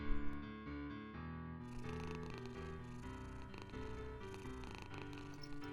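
A house cat purrs in a quiet room, a soft continuous rumbling that carries on evenly throughout with no voices.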